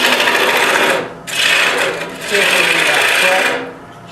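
A tool rasps against wood while a calabash bowl's tenon foot is being shaped, three loud bursts of scraping with short pauses between them, close up.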